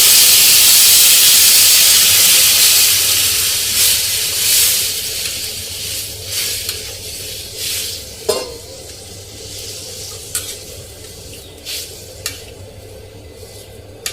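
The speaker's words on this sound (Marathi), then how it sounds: "गरम पाणी करून घेतलं होतं ते गरम पाणी आता आपण त्याच्यामध्ये टाकूया" Hot water hits a hot black cast-iron pan of vegetable curry made with field beans and sets off a loud burst of hissing steam and sizzle. It slowly dies down to a bubbling simmer, broken by spoon clinks and stirring scrapes.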